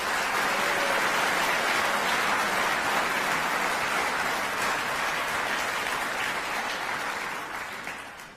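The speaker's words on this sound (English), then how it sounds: "so please a round of applause for them" A large audience at a University of Utah speaking event in 2017 gives sustained, dense applause. The steady wash of clapping holds evenly and then tapers slightly toward the end, with no voices over it.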